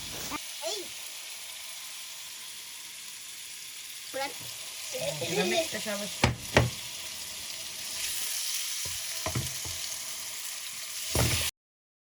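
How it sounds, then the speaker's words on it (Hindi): Marinated chicken fries quietly in a pan with a soft continuous sizzle, broken by a few scraping and clattering stirs. A brief voice is heard faintly in the background. "ये अभी जो है तो चिकन जो हमने मैरिनेट किया था, पहले हम उसको थोड़ा सा पकाएंगे।"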